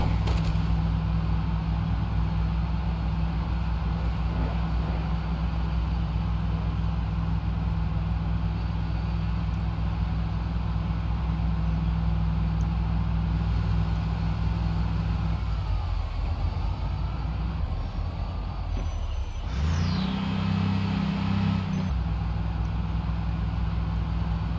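A failing car engine in the zombie survival game Project Zomboid runs steadily with a low, rough drone, dipping briefly near the end before a louder strained surge.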